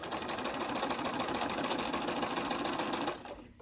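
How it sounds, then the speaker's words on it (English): A sewing machine stitching a curved seam in a Double Wedding Ring quilt runs with a steady, fast mechanical whir and rapid needle chatter, close and loud, then stops abruptly. "And I've just sewn the curved seam."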